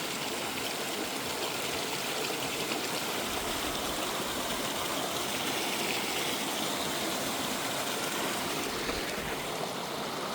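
Water from a stream flows and trickles steadily near Kedareshwar cave at Harishchandragad in Maharashtra, a close, continuous broadband rush with no voices.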